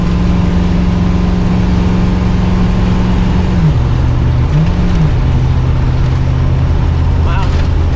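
A Winnebago motorhome cruises on the freeway with a loud, steady engine and road drone that holds close and constant throughout, its engine note dipping and rising briefly partway through, with a voice speaking over it.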